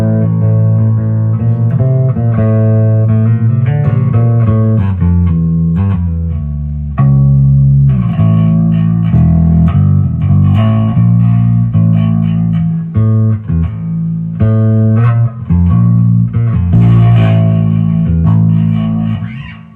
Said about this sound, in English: Let's bring in the Sonicake. So here's the reverb.